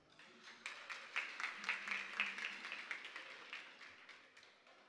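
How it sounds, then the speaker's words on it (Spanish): Audience applause at a regional final of a national oratory contest in Panamá Oeste, fairly faint, with a few distinct claps rising into a brief burst of clapping that fades within seconds. "Fuerte el aplauso."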